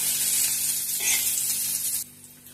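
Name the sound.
onions frying in a pan for Maggi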